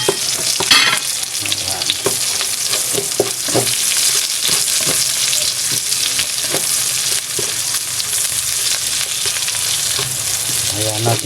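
Onions frying and being stirred in a pan, a steady loud sizzle with repeated scraping strokes of stirring throughout, and a voice speaking briefly near the end.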